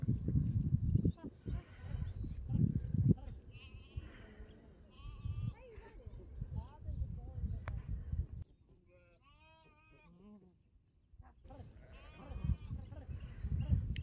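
Sheep and lambs bleat in a farm pen, a chorus of overlapping calls with shuffling and handling noise, some cries near and clear; someone speaks over the flock for much of the clip.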